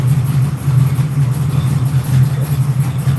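A purple car's engine idles close by at a steady, loud low rumble for a few seconds, with no voices over it.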